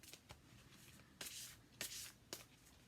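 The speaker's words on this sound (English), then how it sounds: "Shuffle." A deck of cards is shuffled in a few quick, crisp riffles separated by short pauses, close up and quiet in an otherwise still room.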